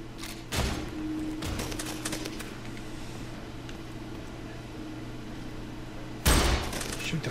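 Gunfire in the video game F.E.A.R. 3 aimed at candles: a few sharp, loud shots near the start and another burst near the end, over a steady low hum of game ambience.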